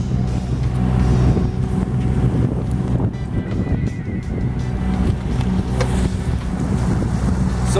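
Strong wind buffets a boat on Hog Inlet during a fishing outing, a loud steady low roar of wind noise that runs without pause across the whole stretch, with no talking.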